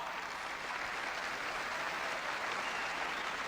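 Spectators at the All England badminton final between Punch Gunalan and Rudy Hartono cheer and applaud after Hartono's first point of the second game, a steady, even roar of clapping and voices from a distant arena crowd.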